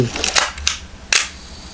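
A Nikon F3 film camera shutter fires on the bulb setting, giving a few sharp mechanical clicks and snaps in a quiet room, close and distinct.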